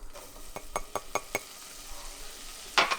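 Flour stirred into hot melted butter in a pan for a white sauce roux, a short run of evenly spaced utensil scrapes and clinks against the pan over a faint sizzle, ending in a louder scrape.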